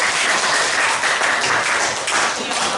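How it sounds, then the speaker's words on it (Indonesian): A high school physics class claps for a fellow student in a brief, dense round of applause, steady and fairly loud throughout. "Tepuk tangan untuk Herodion."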